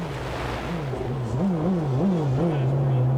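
IndyCar race cars in the pit lane at the 1993 Michigan 500: a wavering, warbling engine tone rises and dips as the cars idle and rev, moderately loud over a continuous background roar.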